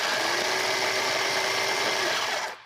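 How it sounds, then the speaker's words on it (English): A food processor pulses peanuts into fine crumbs, a loud close steady whirring grind that holds for about two seconds and then winds down abruptly, with no talking. "I just really want to pulse those peanuts, not to the point of peanut butter"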